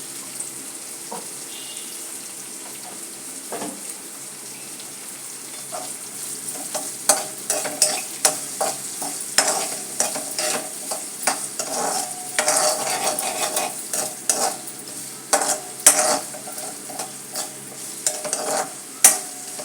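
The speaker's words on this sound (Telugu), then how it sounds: "ఉల్లిపాయలు చక్కగా మగ్గుతాయండి" Onions with a little salt sautéing in a pan for a vadiyala curry, a continuous sizzle with frequent scraping and stirring that grows busier and louder toward the end.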